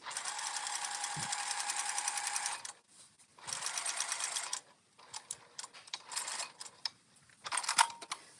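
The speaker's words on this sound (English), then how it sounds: "we are just doing our top stitch at 1/8 of an inch seam allowance" Sewing machine top stitching at an eighth-inch seam allowance, running in steady rapid bursts of a few seconds with short pauses and quick clicking adjustments between, close and clear.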